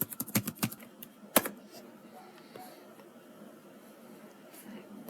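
Keys clatter on a computer keyboard while an employer address is entered into an online US visa application form, with a quick burst of close, sharp taps early on, one loud stroke, then quieter scattered typing.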